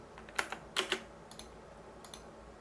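Quiet, close computer keyboard typing and mouse clicking come as a few scattered taps and short clustered clicks, with no speech.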